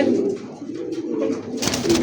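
A pied Gola pigeon coos with low, throaty repeated calls through most of the clip, close by, with a brighter burst of noise near the end.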